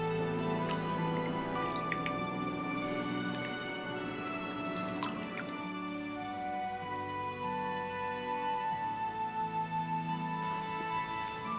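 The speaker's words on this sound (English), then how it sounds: "everyone should wash their hands with water" Water dripping as hands are washed for a Passover Seder purification rite, soft scattered drops and small splashes landing close by, faint against a quiet room with a few sharper clinks.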